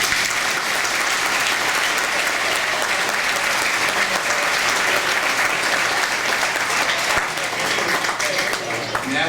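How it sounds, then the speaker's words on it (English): A room full of people at a district gathering honoring Ray Wells and his family bursts into sustained clapping. The dense, even applause continues without a break throughout. "If you'd like to applaud, you may."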